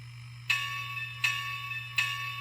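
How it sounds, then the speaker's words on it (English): A small, bright bell on a model ATSF 4-8-4 Northern steam locomotive strikes three times at an even pace, each ring fading slowly over a low steady hum. "There's the bell."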